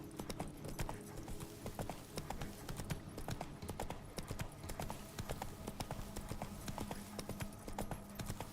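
Roach, a horse in The Witcher 3: Wild Hunt, gallops steadily with a rapid, even clip-clop of hooves that runs the whole way through at moderate loudness, with no talking over it.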